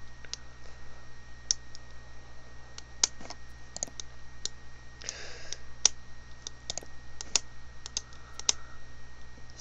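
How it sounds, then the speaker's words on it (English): A pen clicks repeatedly at irregular intervals, sharp, close and crisp ticks scattered over a quiet indoor background with a low steady hum. "Sorry, I should stop clicking my pen."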